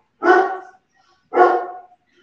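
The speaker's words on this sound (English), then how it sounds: "And there's my dog." A dog gives two loud, close barks about a second apart, each a short full-voiced woof, with quiet in between.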